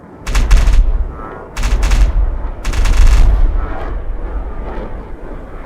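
Heavy gunfire and booming artillery-like blasts from a Minecraft Superb Warfare mod battle with planes, three dense bursts of rapid shots in the first three seconds, then a sustained rumbling roar that slowly fades.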